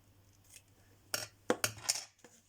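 Scissors make several sharp, close snips, cutting material for a vintage craft box, each cut a crisp separate click in an otherwise quiet room.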